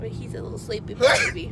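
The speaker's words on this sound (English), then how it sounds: "Don't sneeze on the baby." A single sudden sneeze bursts out near the end, loud and close, right after a person speaks softly about a sleepy baby.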